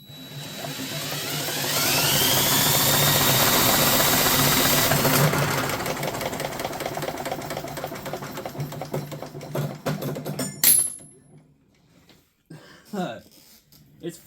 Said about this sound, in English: now I can use the drill with 2 hands